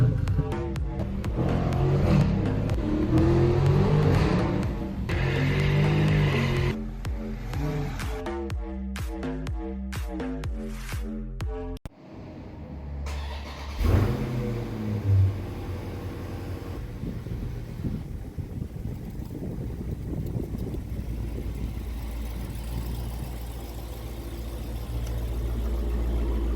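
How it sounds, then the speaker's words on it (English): A Dodge Challenger Scat Pack Widebody's stock exhaust rumbles and revs in bursts, choppy and loud at first, then settles into a steadier, quieter idle with wind noise. "seeing if the Scatpack Widebody's exhaust is good enough stock"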